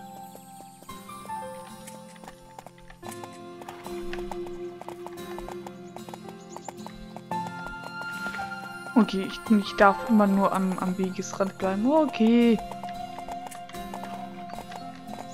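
Hooves clip-clop steadily from a horse in the video game Horse Life, with light rhythmic steps over game music and a brief whinny, while a person talks over part of it.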